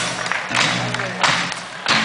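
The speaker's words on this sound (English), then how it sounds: "Come on, everybody, and stamp your feet real loud." Audience stamping feet loudly at a live acoustic music show, a few broad heavy thumping bursts with gaps between them, mixed with crowd noise.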